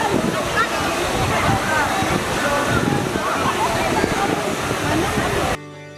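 Steady rushing roar of Bayokbok Falls, a three-layered waterfall, with splashing water, voices faintly mixed in, cutting off abruptly near the end.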